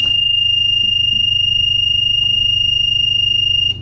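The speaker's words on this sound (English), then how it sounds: "turn on the ignition switch, which should give us a warning buzzer and lights." A truck cab's ignition warning buzzer sounds as one steady, loud, high-pitched tone lasting several seconds over a low electrical hum, then cuts off abruptly.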